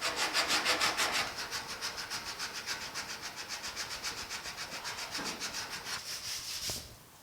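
Coarse 36-grit abrasive sands the sheet-metal cab of a 1950 Chevy five-window truck, a loud steady rhythmic rasping with regular back-and-forth strokes that pauses briefly near the end.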